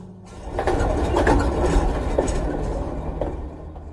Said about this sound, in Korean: 덜컹거리는 소리를 내며 기차가 출발했다.